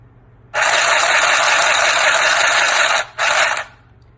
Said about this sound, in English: Now pull it down, it's in the unlock mode to start stitching.